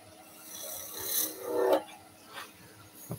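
A skew chisel cuts a wooden baby's rattle spinning on a lathe, making soft, close scraping swells that rise and fade over a low, steady hum.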